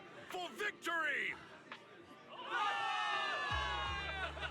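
Crowd cheering for victory in the video game Zenless Zone Zero, a dense swell of voices rising partway through and holding loud, following earlier shouts and a voice-like call.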